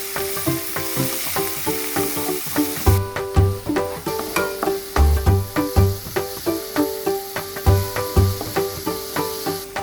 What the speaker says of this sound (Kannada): ನೆಕ್ಸ್ಟ್ ಟೊಮೆಟೊ ಹಾಕಿದ್ಮೇಲೆ ಚೆನ್ನಾಗಿ ಫ್ರೈ ಮಾಡ್ಕೋಬೇಕು.